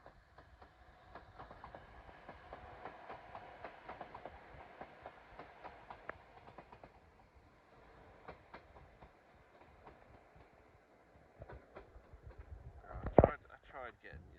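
A Northern Class 195 train rolls into a station platform at York with rhythmic wheel clicks and a low rumble, moderately distant, ending in a sharp squeal of brakes.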